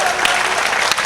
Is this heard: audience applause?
yes